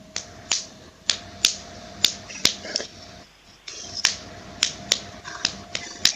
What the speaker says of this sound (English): Listen, I'm going to just clap the pattern first